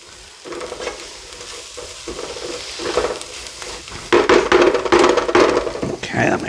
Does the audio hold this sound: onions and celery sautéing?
yes